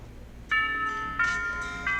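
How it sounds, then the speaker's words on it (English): A school bell in the visual novel game Katawa Shoujo chimes as three clear, evenly spaced tonal strikes, each ringing briefly over a soft background hum. "When the final bell sounds"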